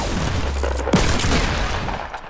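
Loud gunshots in Fortnite, rapid overlapping bursts of fire with a sharp report near the middle, set against a steady rumbling game soundscape.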